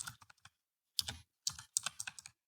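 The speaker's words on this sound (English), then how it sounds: "get a different keyboard because that is ridiculously loud" Loud typing on a computer keyboard, close-up bursts of sharp rapid key clacks separated by short pauses, with no one speaking.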